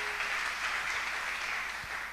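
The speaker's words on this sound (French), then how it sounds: "tobeteli yesu baboko" A church congregation applauds together for Jesus during a worship service, a dense, steady wash of hand clapping sustained evenly from start to finish.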